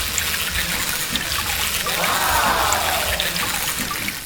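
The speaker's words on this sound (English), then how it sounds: "the multicolored water jets are flowing out" Water splashes and trickles steadily from a small toy water pump, a continuous spraying hiss that swells slightly midway, close by.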